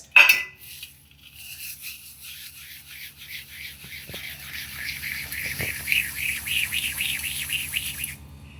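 Roasted dried fenugreek leaves are crumbled by hand on a plate, giving a steady dry rustling and crackling that builds over several seconds, with bright scratchy texture and a sharp tap near the start.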